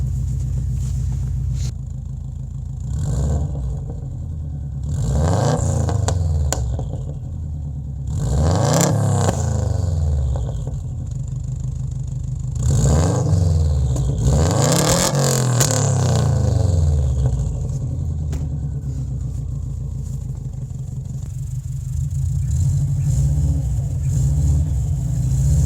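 A Subaru WRX with AWD revving repeatedly as it tries to drive out of deep snow during heavy snowfall, a rumbling idle broken by about six rising and falling engine revs, close and loud, no talking.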